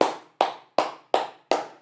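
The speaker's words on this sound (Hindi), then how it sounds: "तालियां बनती है तुम्हारे लिए" Five sharp hand claps ring out alone at an even, brisk pace, each crisp and close with a short decay, with no voices.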